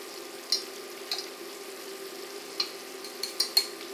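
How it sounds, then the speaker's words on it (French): A utensil stirs hot sugar and water syrup for meringue in a pan on a heating plate, with a few faint scraping taps over a steady low simmering hiss, quiet and close. "On mélange un peu pour être sûr que ce soit bien partout pareil."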